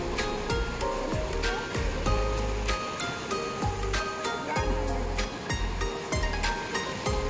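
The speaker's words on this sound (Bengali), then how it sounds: "এখন কতটা কাছে চলে এসছে সমুদ্র" Sea waves at night beside a hotel at Mandarmoni beach, a continuous surf roar broken by repeated low thumps and rushes, heard from nearby and at moderate loudness.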